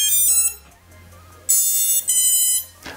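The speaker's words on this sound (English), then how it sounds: "So followed by a few different beeps, there's a solid beep at the end." AirSelfie 2 flying selfie camera drone powering on with a few short varied electronic beeps, then a long solid beep, all loud and close with brief quiet gaps between.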